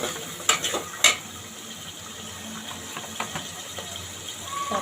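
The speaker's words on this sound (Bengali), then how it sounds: "এখানে 3টে দারচিনি, 4টা এলাচ, একটা তেজপাতা 2 টুকরো করে, 3টে লবঙ্গ, 3টা গোলমরিচ দিয়ে দিলাম।" Whole cinnamon, cardamom, bay leaf, cloves and black pepper dropped into hot oil for a bottle gourd chicken curry, a few sharp clinks of the spices and utensil over a low, steady sizzle.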